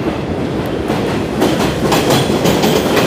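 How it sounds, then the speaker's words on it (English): Elevated train passing on tracks in Bensonhurst, Brooklyn, bound for Coney Island, a loud, close rumbling roar with rhythmic clickety-clack from the wheels, steady throughout with no talking. "There's the train."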